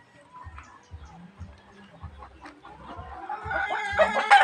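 Backyard chickens, some kept tethered on rocky ground, cluck in a series of short, close bursts, building toward louder, busier squawking and a rising crow-like call near the end.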